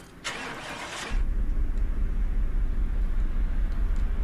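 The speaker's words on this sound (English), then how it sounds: "Let's start her up." A car engine starting in Car Mechanic Simulator 2018: a brief starter whir, then the engine catches and settles into a steady, fairly quiet low idle that holds to the end.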